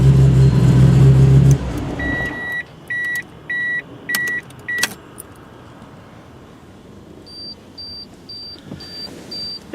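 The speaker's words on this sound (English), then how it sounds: "Go ahead and shut her down." 1997 Nissan Skyline GT-R V-Spec R33 engine shutting down: a loud idle hum cuts off abruptly, followed by a series of dashboard chimes and beeps, then quiet cabin ambience with later faint repeated tones.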